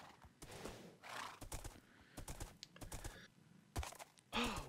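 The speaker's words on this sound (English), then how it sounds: "This horse has 11 hearts." A horse in Minecraft whinnies and clip-clops in bursts, with hoof taps, keyboard clicks and game effects scattered across the quiet stretch.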